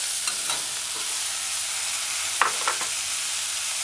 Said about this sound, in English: stir your sauteed vegetables in. Add your chopped eggplants